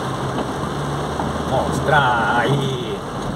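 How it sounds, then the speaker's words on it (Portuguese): Heavy rain falling in the sertão backcountry of Lapão, Bahia, beside a gravel road, a steady hiss beneath someone talking, with a faint engine-like drone in the background. "o nosso sertão debaixo de chuva"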